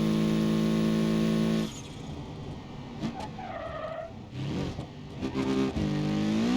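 A car speeding down a highway in BeamNG.Drive, its steady engine drone dropping away into loud tire skidding and squealing, with a few knocks and scrapes and the engine note rising again at the end.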